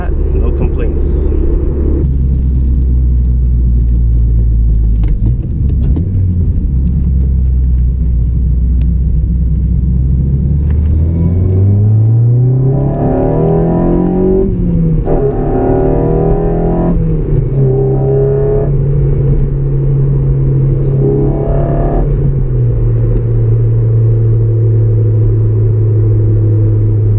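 A 2009 Honda Civic Si engine climbs hard into VTEC, its loud droning pitch sweeping upward then holding high, close and continuous, with a voice talking over parts of it.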